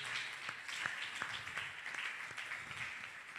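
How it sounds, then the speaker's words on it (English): Clapping from a church congregation at a worship service, a moderate, continuous spatter of hands with several distinct louder claps nearby and a soft murmur underneath. "Clap for them."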